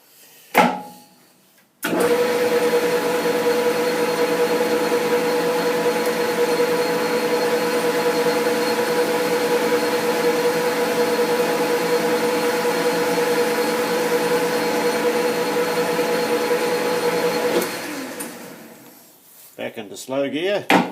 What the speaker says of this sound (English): so I'll just put a chamfer on the leading edge first